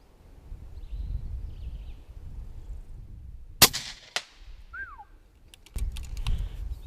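A single sharp rifle shot fired through a scope at an animal about 80 meters away cracks out over a quiet outdoor setting, followed by a faint echo, a brief bird chirp and light rustling.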